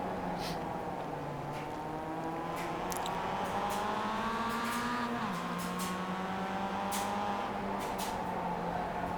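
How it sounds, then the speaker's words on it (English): Race cars circle Tsukuba in the iRacing sim, a steady, droning engine whine that rises and falls through the gears for several seconds, with faint clicks on top and no voices. "He loves that first corner, taking that lead right back from Justin Cady."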